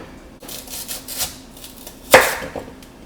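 A knife slices through unpeeled apples on a cutting board, a few soft cuts followed by one sharper, louder chop near the end, close up and otherwise quiet.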